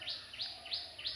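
Morning birdsong: four bright, rising chirps repeat at an even pace, clear and fairly close over a quiet background.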